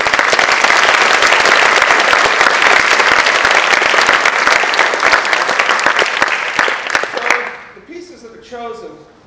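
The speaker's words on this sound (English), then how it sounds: "So please give another round of applause for that kind of dedication." Loud, dense audience applause fills a Christmas concert hall, sustained clapping that fades near the end as a voice begins speaking.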